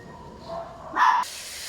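A family dog gives one short, sharp bark, fairly close, rising briefly out of a quiet background before things settle again.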